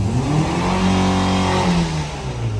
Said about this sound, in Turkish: Bir dip gaz yapar mısın?